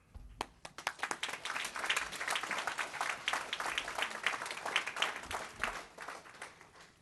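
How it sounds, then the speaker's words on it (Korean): A church congregation applauds steadily at an anniversary service, many hands clapping together in a sustained wave that rises quickly and carries on, moderately loud throughout. "여러분 나오실 때 우리 환영과 또한 감사의 박수 부탁합니다."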